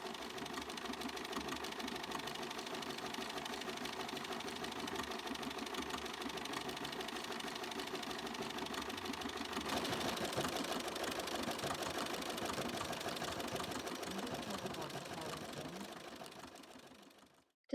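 A Bernina 5 Series embroidery sewing machine stitches out a design on fabric, its needle mechanism running in a fast, steady mechanical whir that holds for many seconds before tailing off and stopping.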